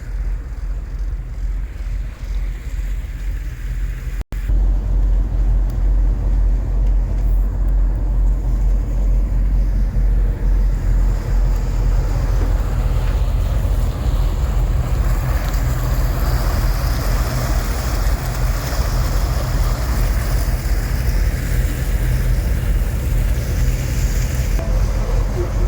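Princess motor boat cruising along a river, a steady, loud low engine drone mixed with rushing wind noise on the microphone, continuous apart from a brief dropout early on.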